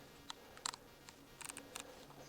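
A camera's shutter speed dial is turned, giving a scatter of faint, close mechanical clicks and ticks, some in quick pairs, against a quiet background.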